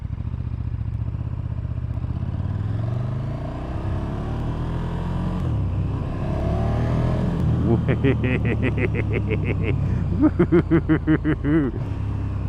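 A 2017 KTM Super Duke motorcycle engine rumbles steadily under speech, then rises into bursts of pulsing revs with rapid blips as it slows down under engine braking.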